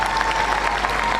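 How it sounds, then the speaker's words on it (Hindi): Sustained audience applause fills the space, a dense continuous patter of many hands clapping at once, steady and fairly loud with a faint hum beneath it. "बार जरा जोश के साथ में तालियां बजा दीजिए।"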